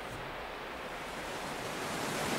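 River water flowing in the video game Roblox, a steady broadband rush like surf that holds evenly and swells slightly toward the end, with no voices.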